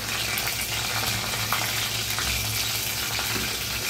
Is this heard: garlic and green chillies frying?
yes